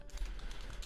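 Rapid clicking of keys on a computer keyboard during a typing speed test, a short close burst of taps.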